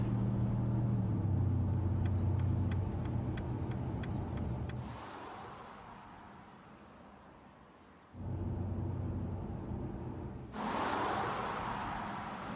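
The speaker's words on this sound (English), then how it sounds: "When the vehicle is driving in the slow lane of a motorway or a similar road" A 2019 Mercedes-Benz car driving in the slow lane of a motorway, a steady low road and engine rumble with a few faint ticks, then a quieter stretch before the drone returns.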